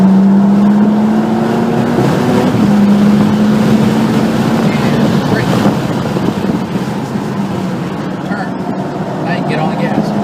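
A BMW car accelerates hard around the Circuit of the Americas race track. A loud, steady engine drone holds close throughout with buffeting wind noise, and a voice talks over it.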